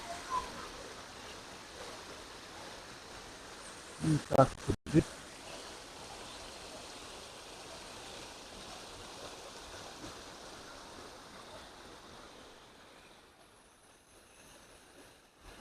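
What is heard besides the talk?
river water flowing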